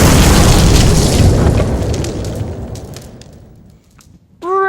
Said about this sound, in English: Princess Daisy was killed in a boat explosion